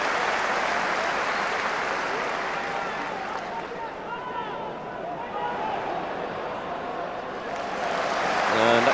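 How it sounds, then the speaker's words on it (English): A football stadium crowd at Rangers versus Kilmarnock applauds a player returning to the pitch, a broad, steady wash of clapping that swells again near the end, with commentary over it. "So Robertson comes back on to applause."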